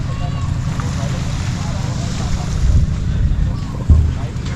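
Tourist boats on open water, with steady wind buffeting the microphone and a low rumble of hulls and waves close by, plus a brief louder thump near the end.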